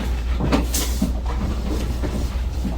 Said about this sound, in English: Now I will open the drawer